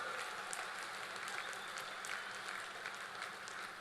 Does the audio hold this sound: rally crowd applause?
yes